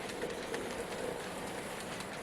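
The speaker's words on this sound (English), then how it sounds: "you'll be listening to the trains running round" Model trains run round a layout in a steady, continuous rumble with faint rhythmic clicking of wheels on track, fairly quiet and uniform throughout, with no voices.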